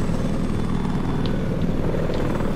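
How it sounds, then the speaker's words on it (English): An attack helicopter in a multiplayer video game thrums with a steady, loud low rotor rumble that stays constant throughout. "Attack helicopter."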